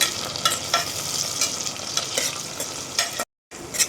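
Chillies and tomatoes sautéing in a pan for mixed veg pulao, a loud close sizzle broken by repeated spoon-scraping strokes, with a brief cut to silence near the end.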